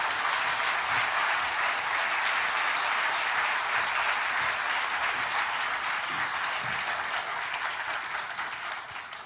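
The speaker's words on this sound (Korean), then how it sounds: "우리 목사님 박수로 크게 환영해 주시면" A church congregation gives loud, dense applause welcoming a pastor at a revival festival, many hands clapping continuously and close, holding strong throughout before easing slightly at the end.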